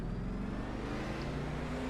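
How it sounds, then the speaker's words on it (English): A race car engine in iRacing, an ARCA Menards Series car at Indianapolis, holds a steady, loud, low drone throughout, close and unbroken, with no voices. "revving the engine"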